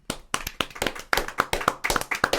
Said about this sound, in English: So we're gonna give a round of applause for everybody.